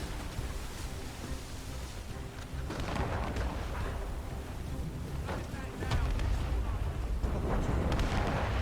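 Naval cannons boom from a sailing warship in Assassin's Creed Rogue, several heavy rumbling volleys over a constant roar of wind and sea, with voices heard faintly underneath.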